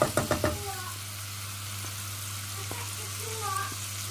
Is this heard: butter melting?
yes